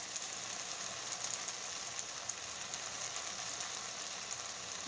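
Rice being stirred and toasted in a pan for chicken fried rice, a soft continuous sizzle with faint scraping, quiet and even with no voices.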